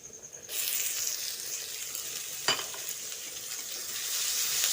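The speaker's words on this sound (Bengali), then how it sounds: "আদা রসুন ও কাঁচা লঙ্কাটা কিছুক্ষণ ভেজে নেওয়ার পর এর মধ্যে দিয়ে দিচ্ছি কুচিয়ে নেওয়া পেঁয়াজ" Ginger, garlic, green chilli and freshly chopped onion sizzle in hot oil in a pan. A bright, steady frying hiss starts after a moment of near silence, with a single sharp stirring clink partway through, close and without any voices.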